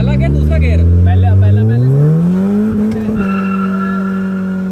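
Tuned car's tyres skid and squeal hard under braking on a race track at night, a loud rising screech with engine drone lasting several seconds, with voices talking over it.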